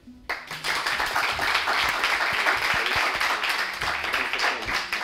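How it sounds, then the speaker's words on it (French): An audience bursts into applause for the guests at a student event, starting abruptly and continuing as steady, fairly close clapping with a few distinct claps standing out. "J'aimerais qu'on applaudisse quand même nos invités."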